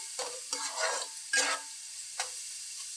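Onion paste fries in oil for Andhra-style fish curry, a soft hiss with a few distinct stirring scrapes of the spatula, fairly quiet and without speech.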